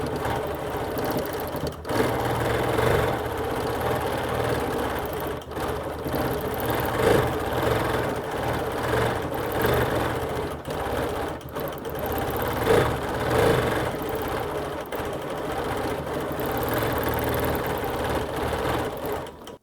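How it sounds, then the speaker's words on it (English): A Q20 sit-down quilting machine stitching free-motion hearts, leaves and swirls, a loud continuous rapid needle chatter with slight speed changes and occasional thumps, close and alone. "It can be done on a sit-down machine like my Q20 or a domestic machine."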